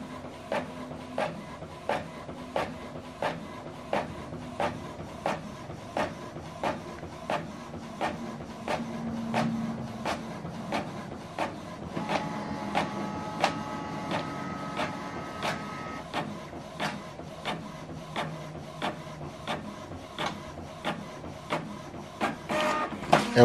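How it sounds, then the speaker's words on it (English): A Canon PIXMA MG3600 all-in-one printer runs a copy job, giving a steady train of rhythmic mechanical clicks and whirs about once per second, close and alone, with a faint motor hum beneath. "So this is the document. And the second one is printing."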